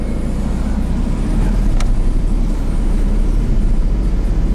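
Interior of a Smart car with a diesel engine driving, a loud steady low engine drone and road rumble that swells slightly as it accelerates, no talk.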